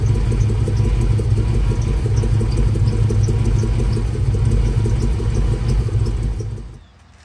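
A worn-out Chevy OBS truck engine with new spark plugs, wires and intake gaskets runs roughly with a loud, close, uneven rumble and lopey pulsing, then cuts off near the end.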